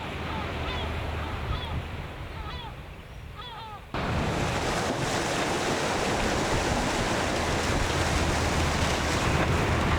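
Ocean waves wash steadily onto an island shore as a broad, continuous roar of surf. Faint bird calls sound over quieter water at first, then a louder, dense wash of waves takes over.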